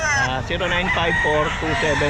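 A rooster crows loudly and close by at an open-air pet market, its long crow rising and falling through several harmonic pulses, with faint chatter in the background.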